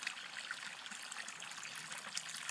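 Water spills over a makeshift dam built in a flooded outdoor channel, making a steady, close trickling and splashing flow that continues evenly throughout with no voices.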